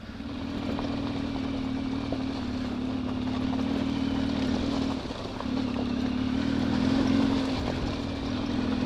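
A trail motorcycle revs and accelerates over rocky ground on a wide off-road 4x4 track in the Ardennes, its engine droning steadily and close, with a brief dip mid-way before pulling hard again.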